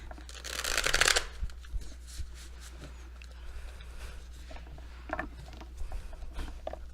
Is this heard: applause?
no